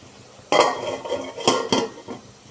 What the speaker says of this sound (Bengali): দিয়ে কিছুটা ভালো করে নাড়িয়ে ঢাকা দিয়ে দেব।